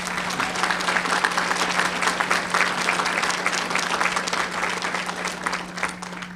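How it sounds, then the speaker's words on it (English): An awards banquet audience applauds the nominees, loud, dense clapping from a full room that runs steadily over a constant electrical hum, with no talking. "So a round of applause for all the nominees"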